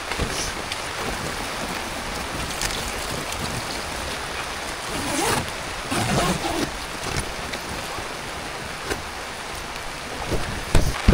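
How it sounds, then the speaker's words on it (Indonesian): Heavy rain pours down at a campsite among rice fields near a waterfall, a dense, steady hiss with scattered louder splashes and drumming close by. "Ini makin menggila hujannya."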